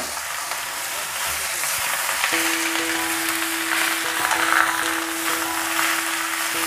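Cut ash gourd tossed and coated in hot oil in a pan, giving a steady, close sizzle of frying with a faint tonal hum running underneath.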